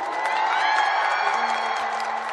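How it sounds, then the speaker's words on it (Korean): A festival crowd applauds and cheers for Apink, a steady, dense roar of clapping and voices that holds at an even loudness throughout. "다시 한번 여러분 에이핑크에게 큰 박수 부탁드리겠습니다"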